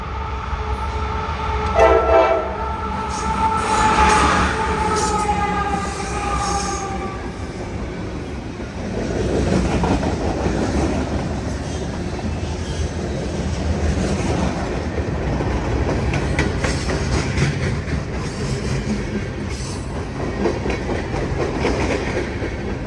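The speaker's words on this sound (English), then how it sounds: "that was a long train." A long Norfolk Southern freight train passes beside a rail line near a park in West Virginia, sounding its loud horn early, then a sustained rumble and clickety-clack of wagons rolling by close.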